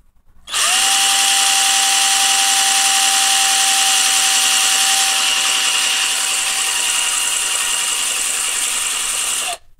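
A cordless drill bores into the plastic leg joint of a Gundam model, a loud, steady motor whine held for about nine seconds alone after a brief start, then cutting off abruptly.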